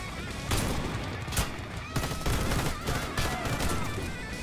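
Rapid gunfire from a Warface shooter match crackles in dense, overlapping bursts, with sharper shots standing out above a constant loud barrage.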